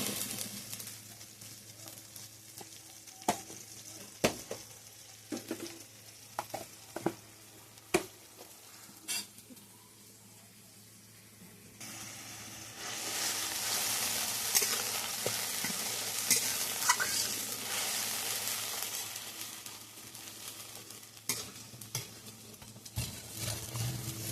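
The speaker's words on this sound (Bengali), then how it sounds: "মশলাটাকে এবার ভালো করে কষাবো" Masala spices stir-fried in a pan, with sharp scraping clicks of a spatula at first, then a steady loud sizzle that fills the second half, close up with no talk.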